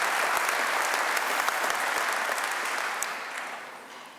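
An audience applauds at a Cardiff University graduation ceremony, sustained dense clapping from a large crowd indoors, steady and loud before fading slightly toward the end.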